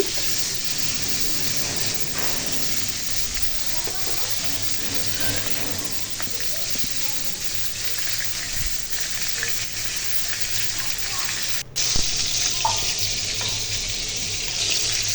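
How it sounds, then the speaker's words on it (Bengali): Hilsa fish pieces fry one by one in hot oil in a pan, giving a steady, close sizzle that runs continuously with small spatters and a brief clatter near the end. "এখন এই যে ইলিশ মাছগুলো এক একটা করে ভেজে নিতেছি"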